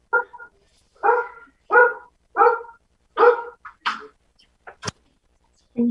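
Several dogs bark in a quick series of sharp, evenly spaced yaps, close by, ending with a few scattered softer barks.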